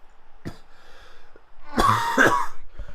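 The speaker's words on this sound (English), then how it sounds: "I'm still coughing in every part of it" A short cough, then a louder burst of harsh coughing and throat clearing, close to the mic in an otherwise quiet setting.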